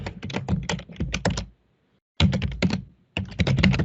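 Rapid clacking of computer keyboard keys while an Azure AD admin account is entered, close and crisp, in three bursts separated by short pauses.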